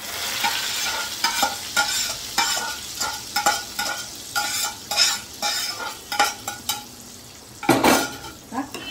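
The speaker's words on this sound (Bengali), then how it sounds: "ভালো করে মিশিয়ে নিচ্ছি।" Mutton korma is mixed in a pan, giving a continuous low sizzle and rhythmic scraping and clinking of a spoon against the metal, close and clear with no speech.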